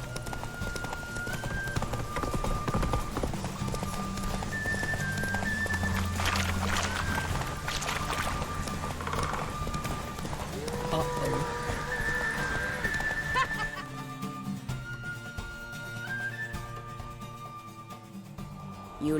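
Horse hooves clip-clop steadily in The Witcher 3 video game as a horse rides along, with a whinny and a musical score, and a voice speaks briefly over the hoofbeats.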